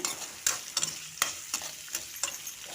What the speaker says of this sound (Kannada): ಎರಡು ಈರುಳ್ಳಿ ಕಟ್ ಮಾಡಿ ಹಾಕಿದ್ದೀನಿ ಒಂದು ಸ್ಪೂನ್ ಸೋಂಪು ಹಾಕಿದ್ದೀನಿ ಹಾಕಿ ಫ್ರೈ ಮಾಡ್ಕೊಳ್ಳೋಣ